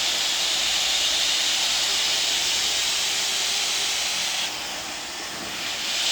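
Hair dryer with a nozzle attached blowing during a long bob haircut, a loud steady close hiss of rushing air that dips slightly near the end.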